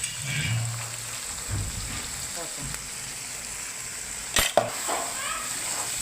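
Eggplant and coriander frying in hot oil with black masala are stirred in a pan for a brinjal and Bombay duck dish; a steady sizzle runs under scraping spoon strokes, with a few sharper knocks near the end.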